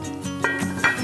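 A lid is set on a cooking pot of butternut squash potage soup, giving two bright metallic clinks close by against a quiet kitchen background.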